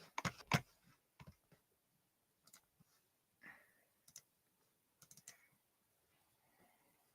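Computer keyboard keys clatter in short bursts of quick taps, with pauses of near silence between the bursts, close and fairly quiet.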